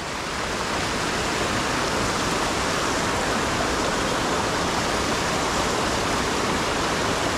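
Rapids at High Falls roar with steady, loud rushing water, a dense unbroken wash of noise from close by with no voices over it.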